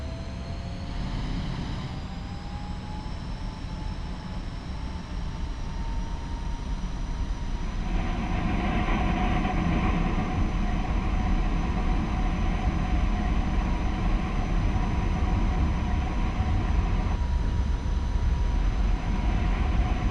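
An F-5E jet in the DCS flight simulator rolls for takeoff, its steady engine roar and thin turbine whine growing louder and fuller about a third of the way in, then holding strong to the end with no talk.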